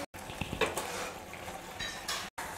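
Boiled macaroni being stirred into red gravy in a pan: soft, quiet scrapes and occasional light clinks of a spoon against the pan.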